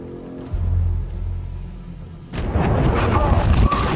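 Loud in-game blast and rumble from Batman: Arkham Knight, a low booming roar that swells after a heavy low drone and keeps churning with crackling debris-like noise to the end.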